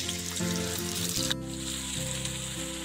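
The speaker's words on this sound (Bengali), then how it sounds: "এবার আমি এর মধ্যে দিয়ে দিচ্ছি দুই স্পুন আদা ও কাঁচা লঙ্কা বাটা" Ginger and green chili paste hits hot oil with a steady, close sizzle and frying hiss that runs throughout, with faint stirring clinks and no talking.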